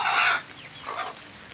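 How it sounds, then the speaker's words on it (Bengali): A hen clucking as it settles down to lay eggs in an open indigenous chicken yard: a loud, close burst of clucks, then a softer second cluck after a short pause. "এই যে একটা মুরগি এখানে বসছে ডিম পাড়ার জন্য"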